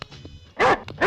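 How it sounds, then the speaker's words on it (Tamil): A dog barks twice in sharp, loud bursts close by, following a quieter stretch of low, murky background sound. "நாய் நாய் பாத்தையா?"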